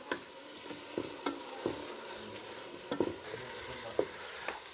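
Chicken feet browning in a pan in a village kitchen, with a soft continuous sizzle broken by repeated stirring scrapes and clinks of a spoon against the pan, fairly quiet and close.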